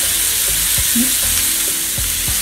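Steak sizzles in a hot pan with a steady, close, loud frying hiss, broken by a few faint clinks and scrapes and no voice over it.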